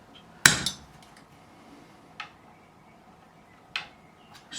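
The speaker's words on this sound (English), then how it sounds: "you can lightly tap them with a fretting hammer just to make sure they are seated correctly" A fretting hammer lightly taps the frets of a Gibson Les Paul Junior guitar, one sharp tap then a few sparse, softer taps spaced seconds apart, close and alone.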